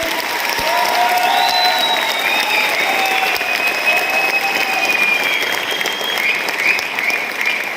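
Dense, loud applause fills an anniversary event hall, sustained and even throughout, with occasional cheers and whistle-like calls rising above the clapping crowd.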